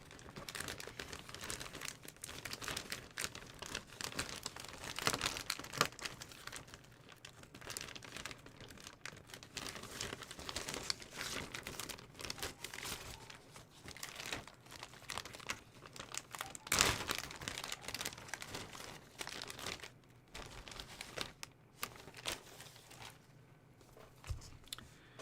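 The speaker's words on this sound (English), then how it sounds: "I really need to change the blade on my scalpel. This is not cutting." A dull scalpel blade tears rather than slices through small plastic scale-model weapon parts, giving a close, continuous crinkling and scratchy ripping texture for about 25 seconds with no talking.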